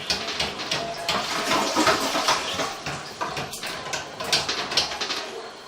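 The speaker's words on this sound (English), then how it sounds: "We're going to flush the water one time to help see if that helps maneuver the camera." Water from a toilet flush rushes through plastic sewer pipes during a camera inspection, a steady broadband wash and gurgle with faint echoing splashes, continuous and fairly close, with no talk.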